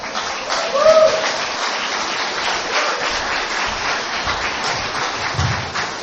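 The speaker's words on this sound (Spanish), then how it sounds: "Demos un aplauso al Señor" Spanish-speaking church congregation giving steady applause, a dense even wash of many hands clapping at moderate distance, with a faint voice briefly heard early on.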